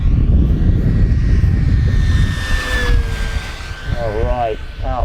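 FMS P-51D Mustang V8 Red Tail radio-controlled scale warbird making a fast pass down the runway, its engine buzz rising and falling in pitch as it sweeps past, loud and close over wind noise.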